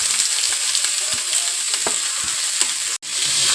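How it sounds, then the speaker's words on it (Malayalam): Carrot and onion sizzling and frying in hot oil in a pan, with a steady bright crackle and occasional stirring scrapes, close and loud with no voices. "നമുക്ക് എണ്ണയിൽ എല്ലായിടത്തുനിന്ന് മിക്സ് ചെയ്ത് കൊടുക്കാമേ."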